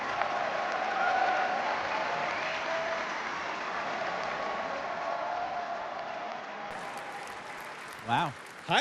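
A large crowd cheers and applauds at a Star Wars Celebration stage event, a loud steady roar filling the space, with a voice briefly breaking through near the end.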